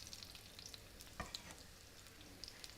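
Onion frying in hot sesame oil: a faint, steady sizzle with light crackles and one brief stir clatter, quiet and even, no talk.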